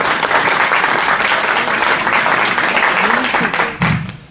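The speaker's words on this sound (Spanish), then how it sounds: "ustedes se merecen un aplauso" Dense, loud applause from an audience at an evening literary event celebrating new novels and poetry, steady throughout and tapering near the end, with a voice briefly audible beneath it.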